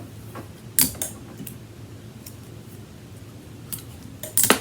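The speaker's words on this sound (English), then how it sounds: "So I'm gonna put the tape on" Tape is pulled and pressed onto a large mug being prepared for sublimation, with a few crisp tearing and crinkling bursts near the start and end over a steady low hum from a warming heat press.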